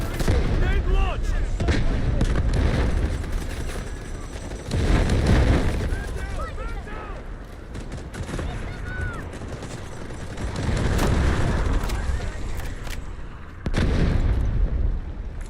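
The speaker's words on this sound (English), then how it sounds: "Grenade launched!" A launched grenade explodes in the Delta Force video game amid sustained heavy gunfire and booming blasts. Loud, dense battle noise surges in waves, with voices heard over the fighting.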